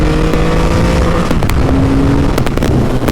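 A Triumph Rocket 3, the biggest production motorcycle, runs its engine loudly and steadily with a low continuous drone and a rising tone, close to the microphone with wind noise and no talking.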